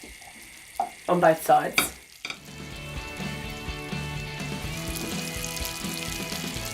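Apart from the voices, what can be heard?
chorizo frying in a pan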